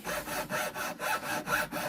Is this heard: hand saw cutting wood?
yes